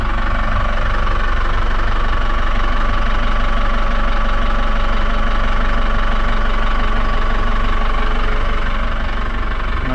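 A boat engine idling steadily just after starting, a loud, continuous low rumble with an even knocking pulse that holds unchanged throughout, close to the microphone and with no talking.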